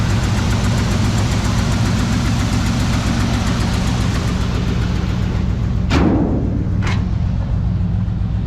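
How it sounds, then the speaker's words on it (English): A 1967 GMC half-ton truck idles through its exhaust with a steady, loud, even rumble close by, with a couple of brief sharp clicks or taps near the end. "So is the exhaust on this thing."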